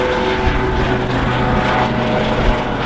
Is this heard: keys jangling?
no